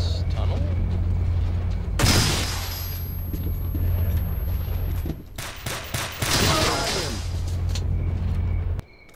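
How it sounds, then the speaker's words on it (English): Gunfire and heavy explosive blasts in S.T.A.L.K.E.R. Call of Chernobyl, with a grenade launcher firing amid loud bursts at about two and six seconds over a steady low rumble and ongoing shooting. "That's a grenade launcher."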